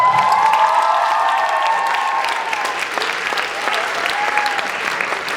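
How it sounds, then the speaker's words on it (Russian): A concert audience applauds loudly and steadily at a festive Chemist's Day holiday concert, dense clapping filling the hall throughout with a sustained tone lingering over the start. "Громкий аплодисмент Салават Хамитов!"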